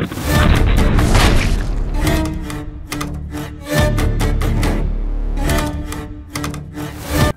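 A .54 caliber flintlock rifle fired from a braced position: a loud, close blast followed by clattering, rattling noise and a second burst of rumbling sound.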